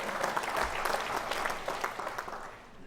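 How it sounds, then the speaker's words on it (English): Audience applause at a university convocation ceremony, a steady wash of many hands clapping at moderate volume that gradually thins toward the end. "Round of applause for him."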